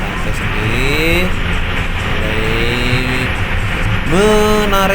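Intercity bus accelerating on a road near Lumajang, its engine rising in pitch through gear changes, loud and close from inside, with someone talking over it.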